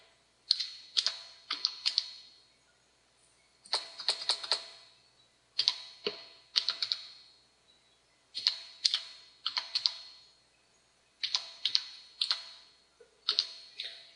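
Fingers type on a computer keyboard up close, in quick bursts of clicking keystrokes separated by short pauses, repeating steadily with no voices.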